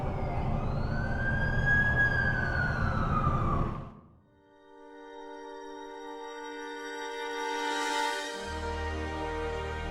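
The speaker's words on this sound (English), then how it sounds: "That's the ambulance I called." An ambulance siren wails loudly and close in the video game The Amazing Spider-Man 2, its pitch sweeping up and down for about four seconds before cutting off. Sustained tonal game music follows.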